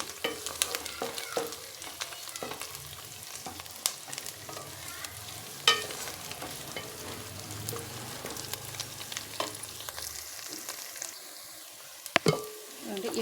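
Mint leaves frying and being stirred in a pan for a mint-tomato chutney, a steady soft sizzle with scraping stir strokes and a few sharper clinks, no talking.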